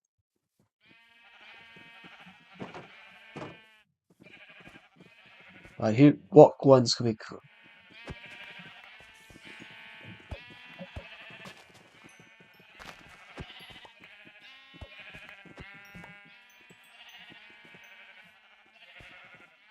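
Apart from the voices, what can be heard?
sheep bleating in the video game Minecraft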